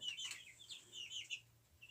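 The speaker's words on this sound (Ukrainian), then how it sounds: "Ось наші курчатка." High, faint peeping of young broiler chicks, a cluster of short chirps close by in a quiet room with a low hum beneath.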